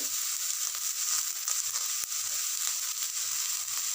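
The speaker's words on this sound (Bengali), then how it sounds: "প্রথমে বেগুনটাকে ভেজে নিতে হবে" Brinjal pieces fry in a pan with methi leaves, giving a steady, dense sizzle close by with faint stirring scrapes and no talk.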